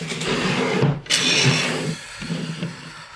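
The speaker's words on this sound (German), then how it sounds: "Mini-Bohrer brauchen wir da wieder." A mini drill whirs steadily at high speed, briefly cutting out and restarting, with changes in pitch as it works.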